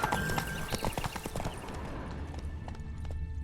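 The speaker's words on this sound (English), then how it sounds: "Run, Roach" Horse hooves gallop in The Witcher 3, a steady rapid clip-clop close up, loud at first and easing as the mount slows, with a brief whinny and no talk.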